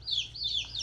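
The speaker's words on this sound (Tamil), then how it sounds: "இது வந்து ரொம்ப ஃப்ரெண்ட்லியான கோழி." Soft, high chirping calls from a young chicken in a coop, repeated in a steady wavering pattern over a low background hum, fairly faint and close.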